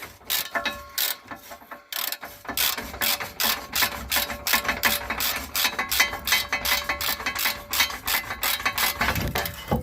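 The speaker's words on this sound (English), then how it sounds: "go ahead and loosen that bolt up and get that bolt took out." A ratchet works loose a bolt on the frame of a 2003 Ford F150 during a hitch installation, giving rapid, rhythmic clicking strokes close by, repeated in steady bursts after a brief pause.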